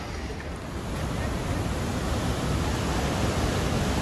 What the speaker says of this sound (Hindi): तो गाइस अभी के लिए हम पहुंच चुके हैं फाइनली झरने के पास